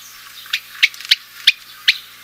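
A Radde's warbler gives five soft, nasal, fairly low-pitched call notes, spaced unevenly and repeated alone over faint background hiss.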